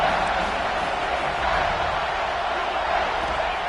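Stadium crowd in College Football 26 on a third down, a continuous loud roar of cheering that stays steady throughout with little change in level.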